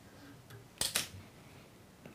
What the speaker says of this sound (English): And trim away your thread